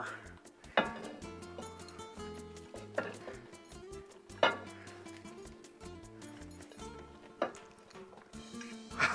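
Chopped onions, peppers, poblano and jalapeno get dumped into a pot of pozole verde, with several sharp clatters and thumps of vegetables and utensils against the pot amid quieter kitchen rustling.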